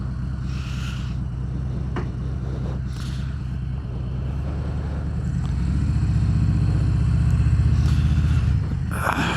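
A Harley-Davidson Fat Bob 114 being ridden, its steady low engine drone mixed with wind rush, swelling somewhat louder as the motorcycle pulls harder toward the end.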